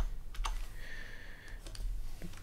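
Keystrokes clatter on a computer keyboard as pixel dimensions are entered for a new document, a short close burst of uneven clicks over a low steady hum.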